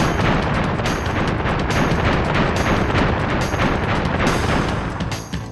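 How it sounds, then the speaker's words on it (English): Fireworks show in the video game Crash Bandicoot: Warped: a loud, dense, continuous barrage of booming and crackling bursts that runs without a break and fades slightly at the end. "Nice fireworks show."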